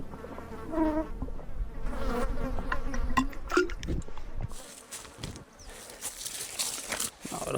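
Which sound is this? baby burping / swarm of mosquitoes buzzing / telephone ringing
swarm of mosquitoes buzzing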